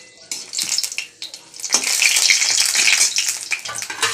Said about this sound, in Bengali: মাছটা ভাজবো, পেঁয়াজ লঙ্কাটাকে ভেজে নিই।